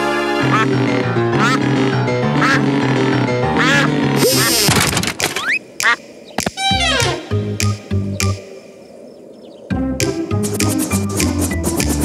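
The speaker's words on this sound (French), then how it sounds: "Les enfants, dites-lui où est son ami canard." A cartoon duck from the Pocoyo animated children's series quacks repeatedly in a lively, busy soundtrack of music and sound effects during a haunted-manor Halloween episode, with brief pauses between bursts.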